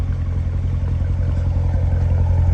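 A 2016 Chevrolet Corvette coupe with the Z51 package and automatic transmission idles with a deep, loud, steady exhaust rumble, close by, with a fast throbbing pulse and no talk over it.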